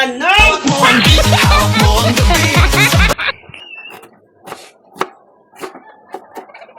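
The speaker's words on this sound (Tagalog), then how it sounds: "Maghihiwa na tayo ng mga ating mga ricado. Mga bawang, sibuyas, ganon." A person talks briefly, then a knife chops garlic and onions on a board for laing, a few sharp, irregular knocks close by against a quiet background.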